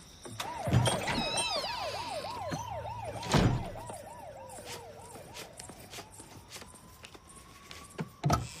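An ambulance siren wails in a rapid rising-and-falling pattern, then settles into a long steady tone, with a few loud thumps along the way.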